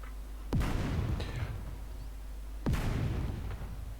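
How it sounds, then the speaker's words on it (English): In a video game, two heavy mortar artillery blasts boom about two seconds apart, each a sharp, loud thump followed by a rumbling tail that fades slowly into low background noise. "come on, mortar"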